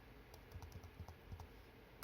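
Quiet, close keystrokes on a computer keyboard come in a short, uneven run of soft clicks with no talking.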